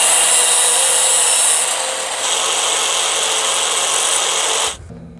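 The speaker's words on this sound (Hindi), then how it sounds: "तो इसको हम काट लेंगे" A power tool grinds steadily through a metal nut-and-bolt for a door handle lock, loud and continuous for nearly five seconds before cutting off abruptly, with no talking.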